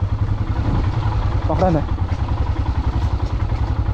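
Motorcycle engine running steadily with a low, pulsing drone throughout a forest off-road ride, close and loud, while someone talks over it.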